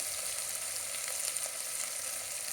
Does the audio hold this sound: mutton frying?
yes